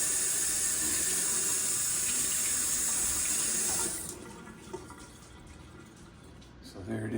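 Tap water runs into a sink for about four seconds as a coho salmon fillet is rinsed, a loud steady hiss. The flow then stops, leaving quieter handling noises and a brief clatter.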